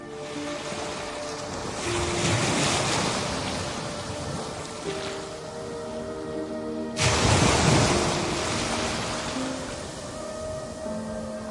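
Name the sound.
sea waves at Aberdeen Harbour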